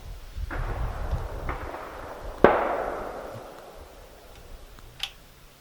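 A Ruger Mini-30 rifle fires at an outdoor range: one sharp, loud report echoes and decays over a couple of seconds, with a fainter crack later and a few softer pops earlier.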